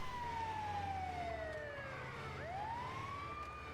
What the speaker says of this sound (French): je vais remettre la sirène pour l'approche